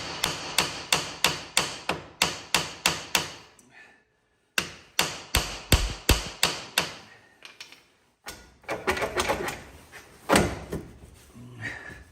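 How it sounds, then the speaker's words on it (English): Repeated metal hammer blows on a front part of a Kawasaki Mule 4010 4x4 SE while removing it during a lift kit install, loud sharp strikes in quick rhythmic bursts with short pauses between runs. "I had to hammer on this a bit to get it out of the holster."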